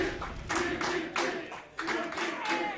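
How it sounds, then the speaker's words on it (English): Crowd at a Tekken 7 fighting-game tournament, Berlin Clash 2018 top eight, breaks into bursts of clapping and cheering, several loud waves of applause in quick succession with no talk over them. "And the crowd are going wild."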